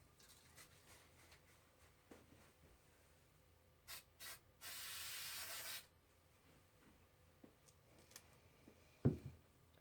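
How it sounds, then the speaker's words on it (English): A single hissing burst from an aerosol can of spray adhesive lasts about a second, amid quiet rubbing and handling noises and a few soft knocks. "I'm going to squirt the back of this with the spray adhesive."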